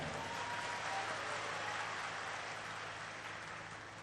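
A religious gathering's audience claps together in a sustained, dense wash of applause that fades slightly toward the end.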